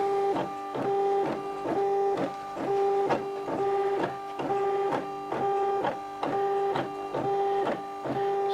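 A Silhouette Portrait desktop vinyl cutter traces and cuts a path, its motor giving a steady tonal whine broken into short repeating bursts as the carriage moves back and forth, close and fairly loud with no talk.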